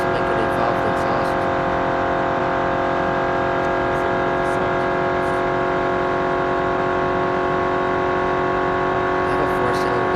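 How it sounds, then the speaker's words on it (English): A 4-cylinder car engine droning steadily in the BeamNG racing game, a constant tonal hum held at one pitch throughout without a break. "I have a 4-cylinder. There's not much I can do to make it sound better."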